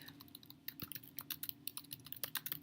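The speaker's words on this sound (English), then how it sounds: "it's time to type my thesis statement" Quick, light clicking of a computer keyboard as someone types a thesis statement, with uneven bursts of keystrokes picking up pace toward the end, quiet and close with no voices.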